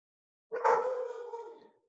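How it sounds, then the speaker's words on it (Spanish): A dog gives a single drawn-out bark that trails into a howl-like tone, about a second long, clear and fairly close in an otherwise quiet indoor room with no talking. "tengo el perro que me está ladrando"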